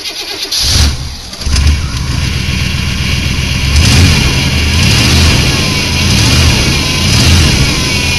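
A Ford Taurus engine cold-starting: a brief crank catches, then the engine runs loud and close, with rough idling and several revs rising and falling.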